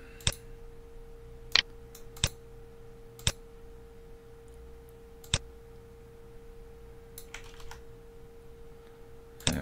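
Scattered key presses and clicks on a computer keyboard while using a Control D shortcut in TinkerCad: about half a dozen crisp, close taps, spaced irregularly over a faint steady hum, with no talking.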